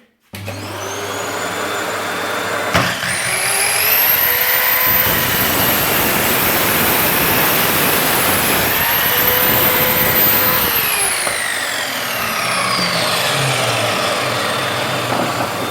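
A Parkside PZKS 1500 B2 sliding miter saw whines up to a steady high-pitched motor roar, then slices through wood clamped in place. The pitch drops under load during the cut, and the motor spins back down near the end.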